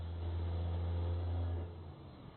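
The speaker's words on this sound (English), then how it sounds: "Listen to it shift through its gears though." A truck engine in American Truck Simulator holds a steady, low drone, then drops off as the gear changes and the pitch falls away.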